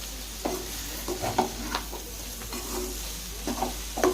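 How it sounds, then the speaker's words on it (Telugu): Goat blood fry sizzles steadily in a hot pan while a utensil scrapes and stirs in repeated short strokes, close and moderately loud, no talking. "ఇలా కిందకి మీదకి కలుపుకోవాలి"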